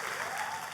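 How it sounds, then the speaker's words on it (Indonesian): A church congregation applauds, a dense burst of clapping that fills the short moment at a strong, even level. "Kalau gitu tepuk tangannya yang seger."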